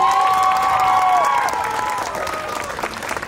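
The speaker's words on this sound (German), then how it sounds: "Einmal Applaus für unsere Mutter." Outdoor audience applause at a K-pop dance performance at Kieler Woche 2024, steady dense clapping that fades gradually, with some cheering and a sustained tonal layer running beneath it.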